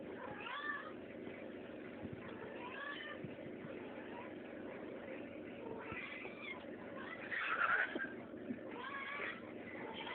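Cat meowing repeatedly in drawn-out, insistent calls, with one louder yowl near the end, over a steady low background hum.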